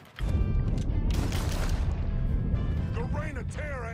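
Explosives detonating in Mafia 3, a sudden loud blast followed by a dense rumbling roar that lingers for several seconds, with a voice breaking in at the end.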